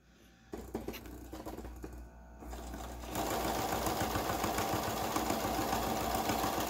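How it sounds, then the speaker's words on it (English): A sewing machine stitches a straight line across a fabric face mask. A few irregular starts and clicks come first, then the motor settles into a steady, loud, continuous whirr of rapid needle strokes. "you can just go and sew a straight line"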